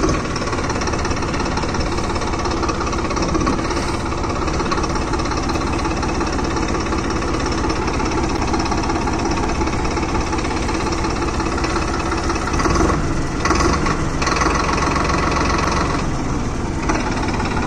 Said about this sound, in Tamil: நேச்சுரல் சவுண்டில் சுராஜோட அந்த கர்ஜனையில் ஸ்மூத்னஸ் கொண்டு வந்தால் எப்படி இருக்கும் அந்த மாதிரி இருக்குது இன்ஜின் ஓடுறது